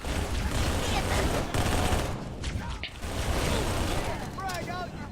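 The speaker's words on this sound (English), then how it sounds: "I'll do the machine pistol thing again." Machine pistol gunfire in the Halo 3 video game: dense, continuous rapid bursts with mechanical clatter and a short break midway, loud and close throughout.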